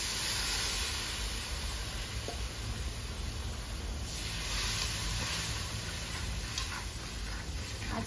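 Water poured into a hot pan of chickpea, potato and paneer curry sizzles and hisses steadily and loudly up close, a continuous bubbling crackle with no talk.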